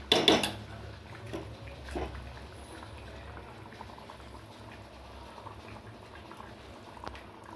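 Roasted ground coconut paste is scraped from a utensil into a cooking pot of bitter gourd curry: a sharp clatter of metal on the pot at the start, then a low, quiet bubbling simmer with a few soft knocks.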